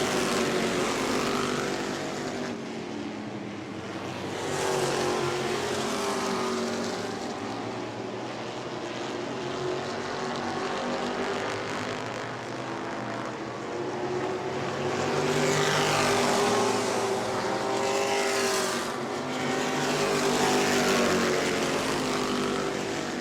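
E-Mod race cars at New Smyrna speedway roar past at speed, a loud, continuous engine drone that rises and swells toward the end as the cars come by, with no voices.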